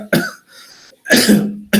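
A person coughs three times in quick succession: a sharp hack, a short pause, a longer rough cough, then a final abrupt one, close and loud.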